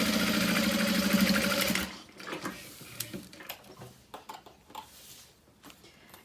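A sewing machine runs steadily, top stitching through the seam allowance of a wristlet's lining and exterior, then stops, leaving quiet fabric handling and small clicks.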